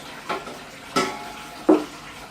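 Pineapple juice poured from cans into a Hawaiian-style Thanksgiving turkey brine mix for a big bird, heard as three short splashy gushes spaced about a second apart, close and moderately loud, with no talking.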